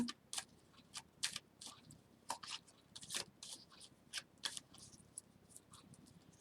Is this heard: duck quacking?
no